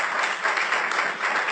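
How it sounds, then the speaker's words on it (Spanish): Audience applause at a panel discussion on rights and democracy, a dense, continuous clapping from a crowd, close and fairly loud for its short duration, with no speech over it. "Gracias, Luciana. Un aplauso."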